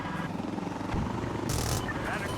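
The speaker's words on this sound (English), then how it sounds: "He got chopped up by the heli." A helicopter in Insurgency Sandstorm drones with a steady rotor chop beneath the clutter of a firefight, close and fairly loud, with a burst of hissing noise partway through.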